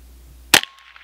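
A single sharp gunshot rings out close and loud at a bullet penetration test on Twinkies, followed by a short echoing tail and quiet.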